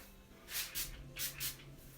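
Several short hissing bursts from a spray bottle of salt spray sprayed onto hair, two quick pairs of pumps, close and fairly soft.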